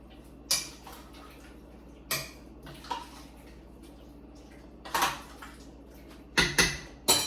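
A spoon stirs chipotle chili ingredients in a metal pot, making a few sharp, irregular clinks and knocks against the pot over a quiet background hum.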